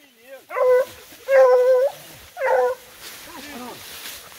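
A dog barks three times in short, loud, close bursts, each followed by softer whining or yelping tones that trail off at the end.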